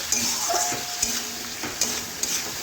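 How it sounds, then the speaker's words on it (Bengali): Fried pointed gourd is stirred into a cooked spice mixture in a pan, with a soft sizzle under a few sharp spatula scrapes and clinks over a couple of seconds. "এখন আমি ভেজে রাখা পটলগুলো দিয়ে দিচ্ছি। ভালোভাবে মশলার সাথে মিশিয়ে নিচ্ছি।"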